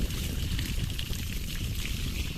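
Steady broadband splashing and rushing of water as a cow is bathed with shampoo outdoors in early summer, continuous and fairly close with no voices.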